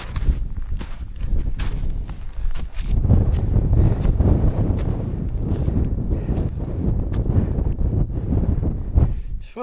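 Wind gusts through an opening in a WW1 alpine hideout, roaring and buffeting close against the microphone, with scattered thumps and shuffling footsteps mixed in.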